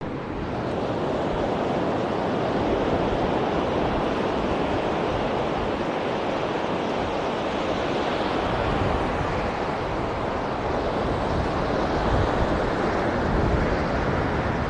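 Open sea waves surging onto a sunny, windy beach at Side in Turkey, a continuous loud roar of surf mixed with wind buffeting the microphone, with no voices.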